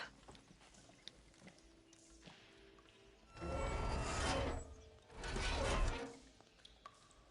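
Two long grinding, rushing bursts from a leaking water valve being turned in Horizon Forbidden West, fairly faint and set against a quiet background with a few small clicks.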